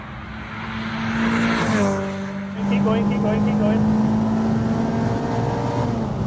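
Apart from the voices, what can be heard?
Renault 5 Campus with modern 2.0 Clio engine revving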